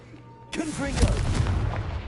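A Confringo fire spell from Hogwarts Legacy bursts with a sudden loud blast, its roar and crackle rolling on for over a second under game sounds.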